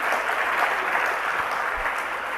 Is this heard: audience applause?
yes